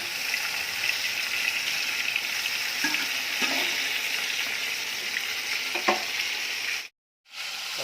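Raw banana pieces coated in salt and turmeric fry in a hot wok, giving a steady close sizzle with a few soft scraping stirs, then a brief cut to silence near the end.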